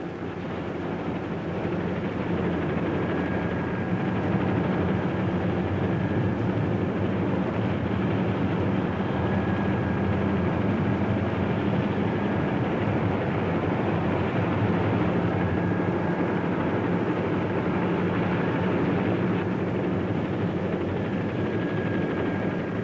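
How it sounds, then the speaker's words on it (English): A steady, loud mechanical roar of light aircraft and helicopters servicing factory teams at the Safari Rally runs continuously throughout, with no pauses and no voices. "Factory teams were using light aircraft and helicopters for service."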